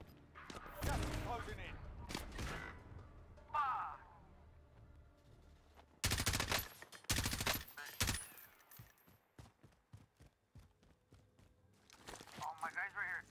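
Gunfire in Call of Duty: Warzone, sharp bursts of shots scattered across the clip amid game sounds, with several loud cracks in the middle and people talking over the action.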